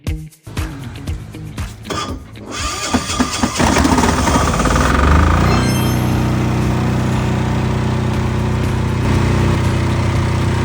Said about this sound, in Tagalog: Dapat mag-automatic yung ating generator na mabuhay.